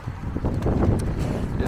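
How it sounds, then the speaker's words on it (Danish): Strong wind buffets the microphone while cycling outdoors on a Friday evening ride, a steady low roar with gusty swells that runs under a man's speech throughout. "Det blæser så meget, jeg kan så næsten ikke høre, hvad jeg selv siger."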